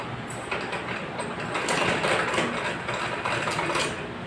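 A sewing machine runs steadily, stitching along the edge of a ladies' pant side zipper, its motor whirring continuously at close range with slight surges in speed.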